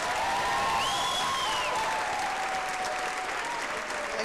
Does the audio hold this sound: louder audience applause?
yes